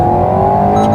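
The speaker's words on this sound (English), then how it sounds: "And that gearbox, it really hits you when you put in another gear." Alpine A110 GT engine holding a steady loud drone with a gearbox change; the shift itself is hard to pick out from the continuous close, even hum.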